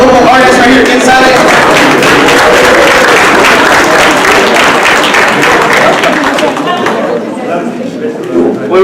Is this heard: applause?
yes